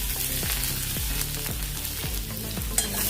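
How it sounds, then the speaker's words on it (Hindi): Asafoetida and dried red chillies fry in hot mustard oil for a Pahadi potato dish, a loud steady sizzle under a low humming tone that repeatedly sweeps downward, with no talk present. "तो अभी इसमें हम हींग डालेंगे, सूखी लाल मिर्च डालेंगे 4-5"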